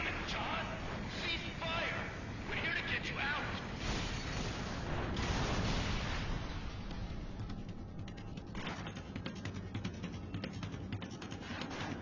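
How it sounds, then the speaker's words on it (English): Explosions and gunfire in the inFAMOUS video game, dense rumbling booms and crackling blasts that build toward the middle and then thin into scattered bursts, with voices speaking over the action. "Explosion's still gonna mess me up."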